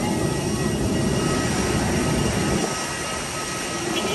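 Cebu Pacific airliner just landed at Zamboanga International Airport, heard from inside as a loud, steady jet engine roar and cabin rumble that eases slightly toward the end.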